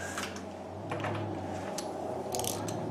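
A nut with a flat washer is tightened on an XMark 7604 adjustable weight bench, heard as a brief run of small metallic clicks and ratcheting ticks close by, fairly faint over a steady low hum.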